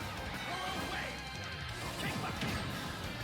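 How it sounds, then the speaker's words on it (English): Heavy forward smash attacks land in a Super Smash Bros match between Villager and another player, dense crashing impacts stacked over a constant crowd-and-game bed, with commentary running underneath. "Oh, those forward smashes are hitting so hard."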